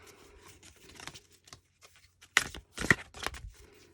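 A deck of oracle cards is shuffled by hand, giving soft papery riffles and two sharper bursts of card slapping, close and fairly quiet with brief pauses between.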